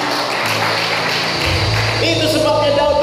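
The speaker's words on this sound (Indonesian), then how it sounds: "Tepuk tangan buat Tuhan." A church congregation at GBI Sunggal breaks into sustained applause, a dense, steady wash of clapping that fills the room, with organ or keyboard tones sounding underneath throughout.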